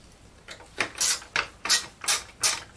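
Rapid ratcheting clicks come in six short bursts as bolts holding the fuel tank of a Homelite UT22600 are loosened, close and fairly quiet with no talking.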